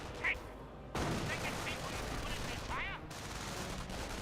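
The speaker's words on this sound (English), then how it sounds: "Incoming gunfire." Gunfire in the Company of Heroes 1 strategy game, with dense bursts of shots rattling over continuous battle noise and a sudden loud swell partway through.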